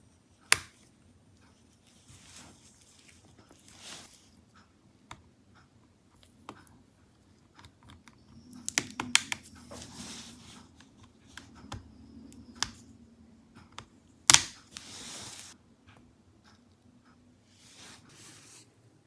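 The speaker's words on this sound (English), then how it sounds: "Now we undo the battery screws and remove the pack." Battery screws on an ASUS V16 (V3607) laptop being undone, sparse faint metallic ticks and small clicks near the microphone, with a few louder snaps and a scrape of handling in a quiet room.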